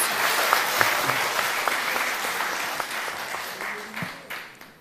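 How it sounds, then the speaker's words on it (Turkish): A group applauds steadily in a village gathering, a dense patter of clapping hands that holds for several seconds and slowly fades, with a few voices faintly beneath. "Alkışlıyoruz"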